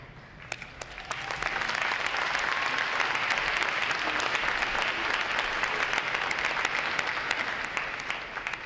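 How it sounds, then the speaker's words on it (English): A large audience at a U.S. Navy recruit graduation bursts into a sustained round of applause, dense clapping swelling quickly and holding steady before tapering slightly. "Somebody beat me to the punch there with a round of applause."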